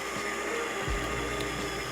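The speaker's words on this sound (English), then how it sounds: "To activate the grinder, simply place the porter filter into the grind cradle and press play." A Baratza Sette coffee grinder grinds beans into an espresso portafilter with a steady, close, whirring motor drone throughout.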